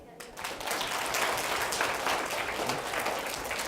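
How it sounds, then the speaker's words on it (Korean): Children applauding during a sermon at a winter church camp: a steady, close burst of many small hands clapping together, lasting a few seconds after a brief lead-in. "박수"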